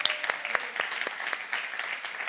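Studio audience applauding a band on a Catalan TV show, a short burst of scattered claps of moderate loudness for about two seconds.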